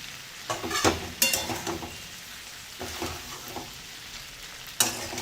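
Okra is stir-fried in a pan, with a soft, steady sizzle under a few sharp scrapes and knocks of a spatula against the metal, close and fairly quiet.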